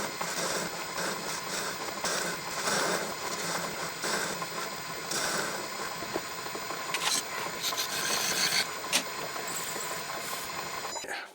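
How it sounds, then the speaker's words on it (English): Close, continuous grinding and rasping of a power tool trimming a couple of millimetres off the end of a metal shaft, with uneven surges and a few sharper bursts, no voices. "just going to trim the shaft down to size"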